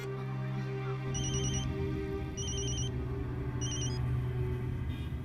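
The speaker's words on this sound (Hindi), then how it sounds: "जरा फोन लगाइए ना" Electronic telephone ringtone heard in three short bursts of repeated high chirps at even intervals, fairly clear over a steady low rumble and hum in the background.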